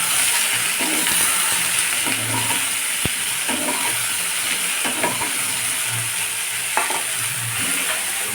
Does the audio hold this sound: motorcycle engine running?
no